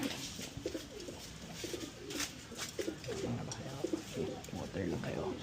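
Racing pigeons in a loft, with cocks separated from hens, give soft repeated throaty coos in overlapping bursts, fairly close and quiet, with faint background rustle.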